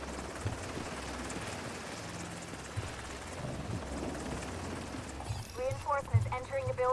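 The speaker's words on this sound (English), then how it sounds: "that helicopter sound is super friggin' annoying" Helicopter rotor in the video game The Division 2, a steady low thumping drone running throughout, loud and continuous, with game sounds and a voice-like tonal burst near the end.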